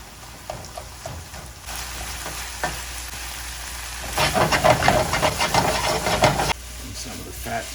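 Stuffed pepper filling of meat and salt frying in a pan, a steady sizzle that swells into louder clattering stirring strokes near the middle, then settles back to a quieter fry.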